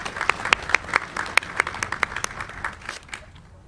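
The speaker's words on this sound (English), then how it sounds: "Please give me a big round of applause." Applause at a Navy change of command ceremony, a moderate scattering of clapping with a few sharp, distinct nearby claps standing out before it thins and fades away.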